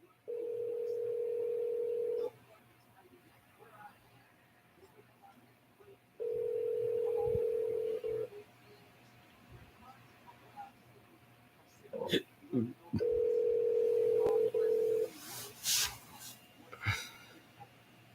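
A phone call goes through a speakerphone, with three long steady ringback tones separated by pauses and faint handling noise, ending in some rustle and clicks.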